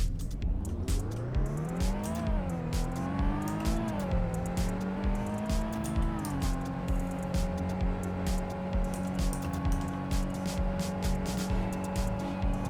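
An Infiniti G35 car accelerates with rising engine tones that climb through several gear changes, then settles into a steady cruising drone with road noise beneath.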